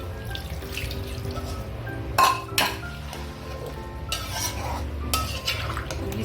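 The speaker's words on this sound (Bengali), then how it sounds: "এবার আমি জলটা দিয়ে দেবো" Water poured into a pan of fried potatoes for aloo dum: a few brief splashing, sizzling bursts and pan clatter over a steady background hiss.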